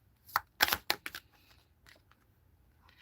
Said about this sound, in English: she shows up every time I shuffle the deck